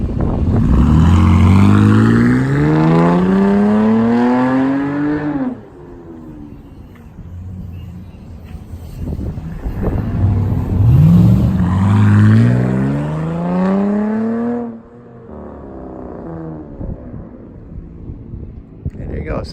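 A 2019 Dodge Durango six-cylinder with a chambered exhaust revs loudly and up close. Its rising engine tone climbs in two long pulls with a settled idle between them, and a voice talks over part of it.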